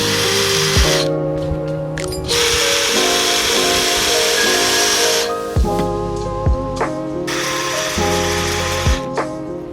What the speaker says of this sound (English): you can just screw them onto your planter